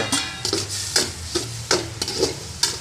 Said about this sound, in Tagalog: So, gisa-gisa lang. Tuloy lang paggisa.